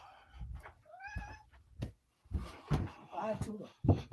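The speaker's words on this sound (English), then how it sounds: "Mr. Getty, Spaghetti the Kitty." A cat meows several times in short rising calls, close by and fairly loud, mixed with household clatter and a person's voice in the background.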